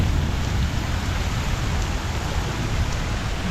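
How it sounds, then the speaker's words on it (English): Heavy rain pours down during a storm along a rail line, a dense, steady roar of drops hitting surfaces with no breaks and no talking. "look how much rain's coming from"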